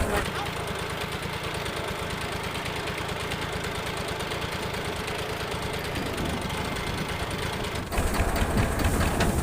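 A tractor engine runs on a farm in a steady, throbbing, loud idle with a fast mechanical knock. The tone shifts briefly near the end.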